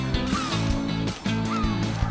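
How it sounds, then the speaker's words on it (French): Birds honking and quacking in a Paw Patrol video game, several loud cartoon honks repeating over bouncy game music. "Les oiseaux bloquent le passage."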